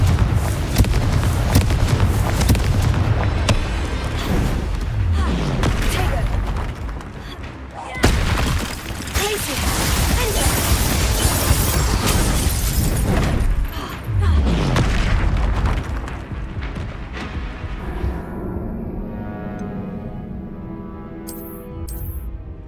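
Confringo blasting spells explode in Hogwarts Legacy combat as repeated heavy booms and crackling blasts over dense battle noise, with voices shouting throughout.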